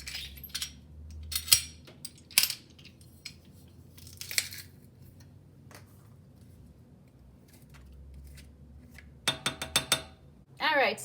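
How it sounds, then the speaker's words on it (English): A knife chops a single garlic clove on a cutting board for vegetable soup, scattered sharp taps in short clusters with a quick run of rapid chops near the end, close and crisp amid quiet pauses. "I have 1 garlic clove that I am going to mince"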